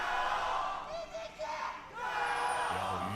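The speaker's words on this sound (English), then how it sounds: "Crowd still all riled up here in an even series" Esports arena crowd at an LPL League of Legends Summer 2024 match roars and cheers steadily throughout, a loud sustained mass of voices with a brief dip midway before swelling again.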